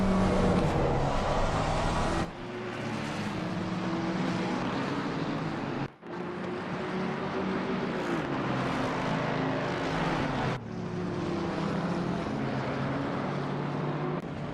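Race cars roar continuously in a GT racing video game at Misano, with Aston Martin, McLaren and Mustang machines in the field; loud sustained engine drone with rising and falling tones and brief dips as cars pass.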